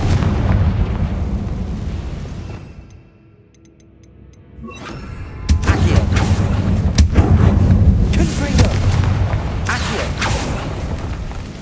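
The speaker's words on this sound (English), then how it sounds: "Confringo! Compulso!" Confringo spell blasts in Hogwarts Legacy, loud booming explosions with rumbling debris, a quieter lull in the middle, then a renewed barrage of impacts.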